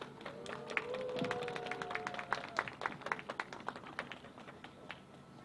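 An audience at a March 1st peace rally in Daejeon applauds, a crowd of scattered claps building into steady clapping, heard at a moderate distance with some talk and a few tonal sounds early on.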